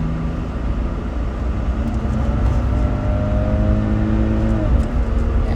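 BMW engine revving hard under kickdown, a loud sustained drone with rising and falling tones and no talk over it.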